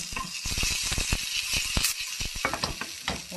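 Mustard seeds and curry leaves sizzle and crackle in hot oil for a Tamil-style tempering, a steady close hiss with quick popping bursts and stirring throughout.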